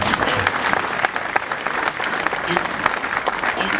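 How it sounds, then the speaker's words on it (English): Audience clapping at a Poole Pirates speedway fan evening, a fairly dense round of applause at moderate level with scattered louder claps and faint chatter underneath. "give it a round of applause"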